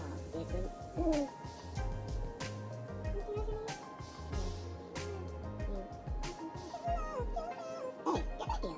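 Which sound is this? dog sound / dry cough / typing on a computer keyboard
dog sound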